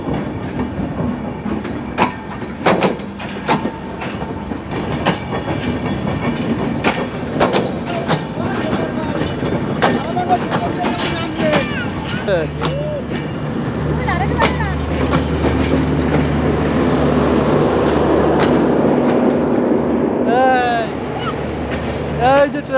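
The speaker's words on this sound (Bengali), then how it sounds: "ট্রেনটা চলে যাচ্ছে, এই যে আস্তে আস্তে আস্তে আস্তে করে ট্রেনটা চলে যাচ্ছে" A train rolls slowly through Khulna railway station, a long steady rumble with clanks and clickety-clack of wheels growing louder toward the end, while someone talks over it.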